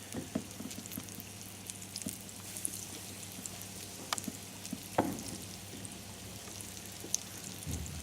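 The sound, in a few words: chicken goujons frying in a pan over medium heat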